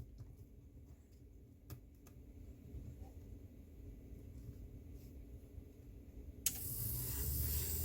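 An HO-scale Athearn SW1500 model locomotive sits quietly on a faint background rumble until its DC-powered motor kicks in abruptly near the end with a steady, hissing whir.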